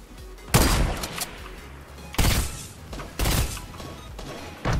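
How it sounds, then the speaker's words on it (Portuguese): Gunfire in the Fortnite video game: three loud, sharp bursts of shots about a second apart, each a broadband crack with a short decay, over a faint background of game ambience. "Eu tô tomando tiro!"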